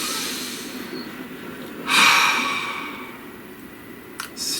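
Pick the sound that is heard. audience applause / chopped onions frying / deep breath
deep breath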